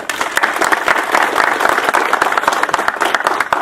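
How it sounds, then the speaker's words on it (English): A crowd applauds with dense, steady clapping that holds at an even level for a few seconds. "let's give her a round of applause"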